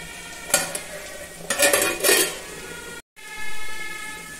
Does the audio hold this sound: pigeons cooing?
no